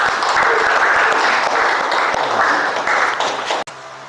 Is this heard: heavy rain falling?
no